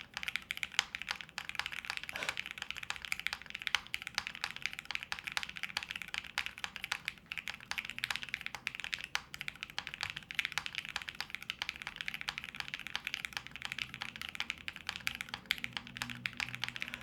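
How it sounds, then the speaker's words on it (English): Quiet, rapid typing on a HIBIKI prototype mechanical keyboard with slight resonance: a dense, continuous stream of light key clicks at a steady pace, with no talking. "the keyboard definitely has a little bit of resonance to it already. Like you can hear it"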